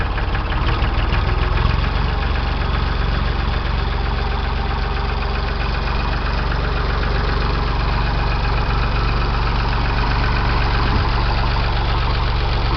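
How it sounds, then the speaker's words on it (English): Close, loud and steady, a cold Ford 335 tractor diesel idles roughly with a knocking clatter while puffing unburned fuel, with no voices over the engine. "Puffing unburned diesel. She's cold."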